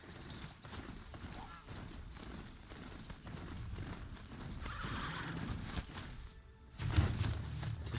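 Roach the horse gallops in Horizon Zero Dawn with a close, steady rhythm of clip-clopping hooves, a whinny near the end and faint background noise.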